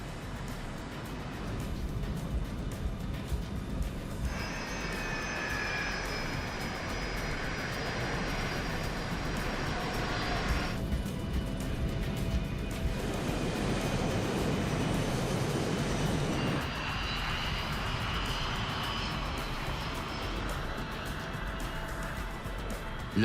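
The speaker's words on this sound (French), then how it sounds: "Avec ses turboréacteurs à double flux silencieux, il est conçu pour les vols de courte distance" The turbofan engines of a British BAe 146 airliner drone steadily in flight, heard as a continuous cabin roar with shifting whining tones layered over it.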